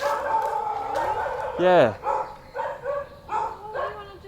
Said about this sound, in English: Been set upon by dogs up here.